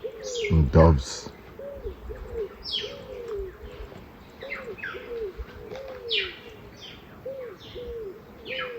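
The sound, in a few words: doves cooing in the rainforest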